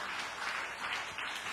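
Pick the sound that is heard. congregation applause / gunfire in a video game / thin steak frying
congregation applause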